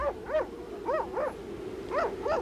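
Greenland huskies in the Arctic town of Jakobshavn give repeated yipping, whining barks in uneven bursts, fairly faint and at a moderate distance, with no talking.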